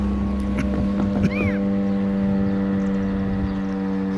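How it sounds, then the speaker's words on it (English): A fire whistle that sounds like an air raid siren drones a steady, sustained tone from start to finish near a railroad crossing, with wind buffeting the microphone and a brief chirp early on. "It's actually a fire whistle. Oh boy, it sounds like an air raid siren."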